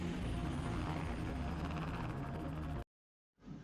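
A helicopter escape plays out in a video game cutscene, with steady rotor and engine noise that cuts off abruptly to silence and then briefly returns.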